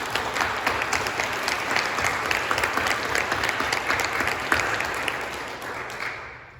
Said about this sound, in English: I think that's worthy of some applause